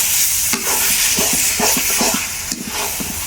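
Taro leaves are stirred in a pan over a clay stove, the spoon scraping in quick repeated strokes over a constant sizzle and steamy hiss, close and fairly loud.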